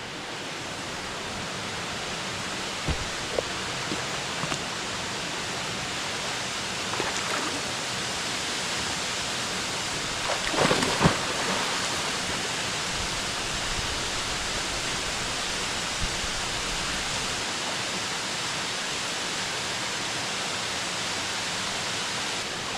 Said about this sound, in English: This is up there one of the coolest waterfalls I've been to.